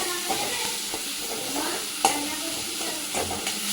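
Spice paste frying and being stirred in a pan for a crab curry with cauliflower and potato, a steady close sizzle broken by the scrape of a spoon, with one sharper clack around the middle.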